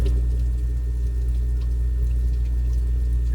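Antifreeze pours steadily from a detached car coolant hose, a continuous liquid splashing and trickling with a low rumble underneath, close and unbroken throughout.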